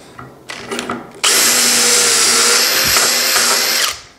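A power drill bores steadily into wood through a Dowelmax doweling jig for a few seconds, loud and close, after some brief lighter tool noises at the start, then winds down.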